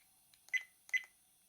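A VIOFO A129 Duo dashcam plays its startup sound, two matching electronic chime bursts about half a second apart, close and fairly quiet with no speech over them.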